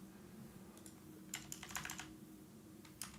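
Scattered keystrokes on a computer keyboard start sparse, then a short rapid run of typing follows, then a couple of final taps, all faint and close over a low background hum.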